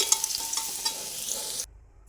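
Shrimp coated in salt and turmeric dropped into hot mustard oil in a wok, bursting into a loud, bright sizzle that cuts off abruptly.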